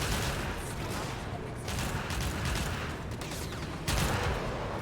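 Rapid automatic gunfire in Warframe, dense and continuous bursts crackling nonstop with brief swells in intensity, loud and close throughout.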